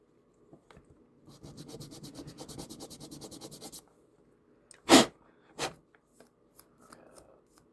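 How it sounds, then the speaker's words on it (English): Sanding a plastic part for a 1/32 scale model aircraft, heard as a quiet rhythmic run of scratchy back-and-forth rubbing strokes lasting a couple of seconds, followed by a few separate handling clicks and rustles. "in sanding it like this"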